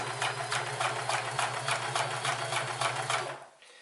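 Sears Kenmore 158 series sewing machine running a straight stitch, a steady rapid mechanical chatter with a low motor hum throughout, close and loud, stopping just before the end.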